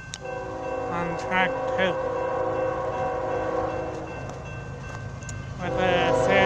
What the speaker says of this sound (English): There's a Union Pacific freight train